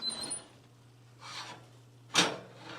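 A kitchen oven door is pulled open and baking pans are taken out: a soft muffled clunk, then a sharper knock and scrape close by, over a steady low appliance hum, with no talking.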